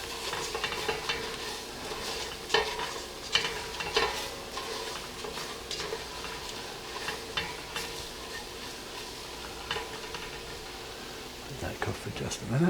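A seafood chowder base with smoked paprika cooking down in a pot, giving a soft steady sizzle while a spoon scrapes and clinks in intermittent stirring strokes, close and quiet.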